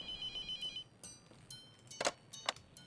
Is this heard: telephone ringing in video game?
yes